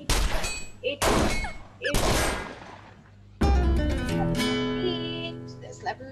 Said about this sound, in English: You have to shoot a mole with 18.